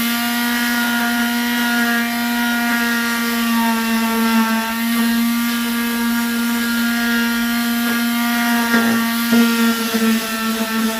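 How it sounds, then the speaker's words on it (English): A small handheld power sander works over a panel on a Rover Metro under restoration, giving a steady, loud, continuous whine with a constant tone and slight wavering, running alone throughout. "I'm going to give it a quick sand with my little sander."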